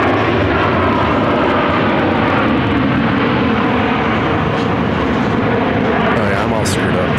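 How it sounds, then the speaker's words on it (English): An American Airlines Boeing 737-800 airliner on landing approach at Phoenix airport gives a loud, steady engine roar that fills the whole span, with voices talking faintly underneath. "That's American Airlines 2675 coming in from San Jose del Cabo on a 737-800."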